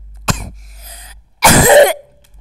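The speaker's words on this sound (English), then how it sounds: "Got a little cough there." A single sharp, close cough bursts out, then after a pause a second, longer throat-clearing cough follows, both loud against a quiet room.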